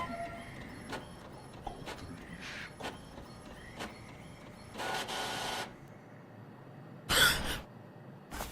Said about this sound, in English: Let's go ahead and print that.